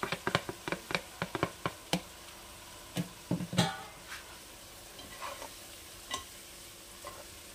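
Fried rice with shrimp, egg and meat being stirred in a pan, a spatula scraping and tapping in quick bursts over a soft, steady sizzle, then slowing to occasional scrapes.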